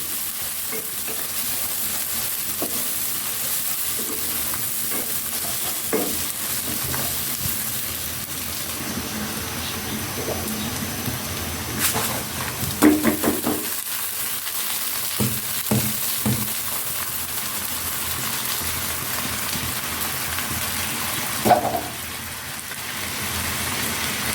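Onion fries lightly in a pan for bhuna khichuri, with a constant hiss of hot oil. Close scraping from stirring comes and goes at irregular moments over a long, even stretch, and no one speaks.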